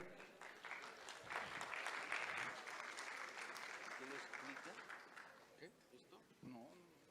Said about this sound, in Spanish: Bienvenido, Andrés, un fuerte aplauso, por favor.